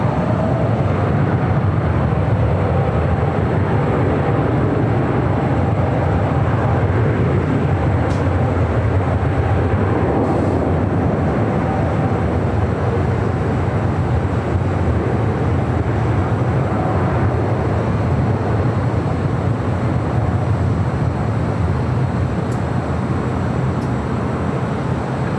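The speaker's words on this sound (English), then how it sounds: "heavy 747 is departing runway 24 right" A heavy Boeing 747 departs from runway 24 right at LAX: a steady, broad roar that stays loud and unbroken throughout with a deep low rumble, heard at some distance.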